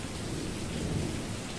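Rain and thunder from the video game Gravity Ghost: a continuous, hissing downpour over a low rolling rumble, steady and unbroken from start to finish with no talking.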